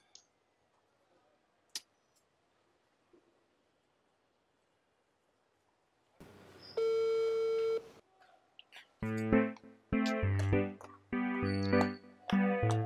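An unanswered phone call plays a long steady tone after several seconds of near silence, then a run of short repeated beeps in a quick rhythm, heard close and clear.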